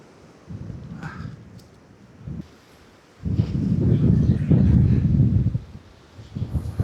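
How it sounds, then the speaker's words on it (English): Strong wind gusting and buffeting a microphone while sea fishing for winter cod on the north east coast, rumbling in loud uneven surges with quieter lulls between. "it's all fun and games when it's windy like this"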